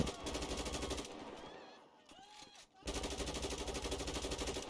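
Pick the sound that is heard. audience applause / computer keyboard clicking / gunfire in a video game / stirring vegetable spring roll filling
gunfire in a video game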